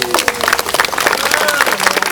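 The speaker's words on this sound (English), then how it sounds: "You are applauding the chief, the chefs of the emu." An audience applauds chefs stepping forward during a Hawaii trip, loud dense clapping from a crowd, with voices mixed into the steady applause.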